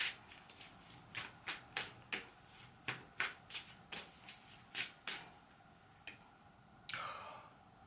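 Tarot cards being shuffled close by in a quick series of crisp riffles and snaps, about a dozen in a row, then a final softer shuffle.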